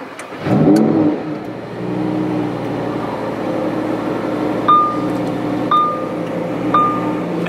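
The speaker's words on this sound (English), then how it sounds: "keeping my foot on the brake and opening up this flap, we can go ahead and start it up" A 2018 Lamborghini Huracán Performante starts up with a sharp starter crank and a loud burst of engine revs, then settles into a steady, rumbling idle, with a few brief electronic chimes sounding late.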